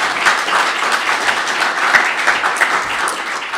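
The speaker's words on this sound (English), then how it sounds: "So again, just a small clap of appreciation." Steady audience applause from a crowd at an anniversary celebration fills the space evenly and loudly, with dense continuous clapping throughout.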